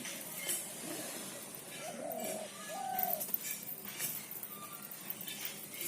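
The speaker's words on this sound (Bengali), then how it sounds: "দুটো পায়রার মধ্যে একটা ধরতে পারলাম না, একটা পায়রা ধরেছি" A captured pied pigeon coos near a rooftop loft, with a couple of soft throaty coos set against a hiss of outdoor background noise, fairly faint and brief.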